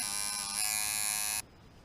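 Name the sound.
rubber band tattoo machine buzzing at 6.1 volts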